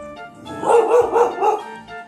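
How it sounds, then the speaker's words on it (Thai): A dog gives a series of short, muffled barks in a quick rhythm, fairly close, with no talking. "เห่าทำไม"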